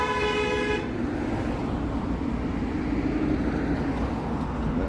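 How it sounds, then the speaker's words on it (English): A loud car horn blasts on a busy city street in Toronto near Weston Road, a steady toot lasting under a second before giving way to continuous traffic rumble. "That was a random loud honking"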